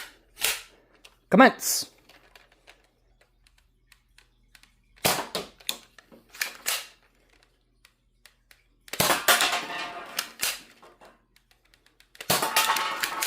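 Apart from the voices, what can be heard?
Blitzfire toy revolver firing Nitro Shot darts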